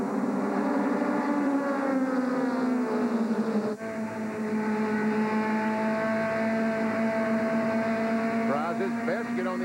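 Goody's Dash Series race cars roar around Bristol's short track in 1996, several engines blending into a sustained, rising and falling whine while a commentator talks over them.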